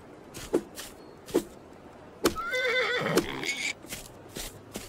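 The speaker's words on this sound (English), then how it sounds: "I think I stabbed the horse." A horse in the video game Far Lands gives a loud, wavering whinny midway, with soft hoof clip-clops spaced steadily before and after it.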